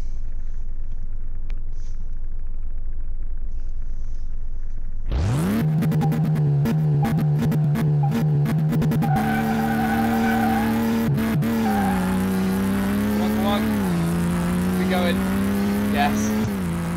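Simulated engine of a 1993 Porsche 911 in Car Mechanic Simulator bursts in abruptly after a stretch of near silence, then holds a loud, steady whining drone with shifting pitch, a turbo-like whine over the engine tone.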